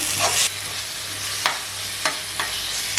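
Banana flower pickle gets stirred through separated oil in a pan, a continuous close frying hiss broken by a few sharp scraping strokes of the spoon at irregular intervals, no voices.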